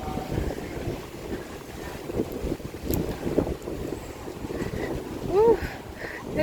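Strong wind gusts buffet the microphone outdoors at a business park in Singapore, a steady low rumble with surges, and people talk quietly underneath.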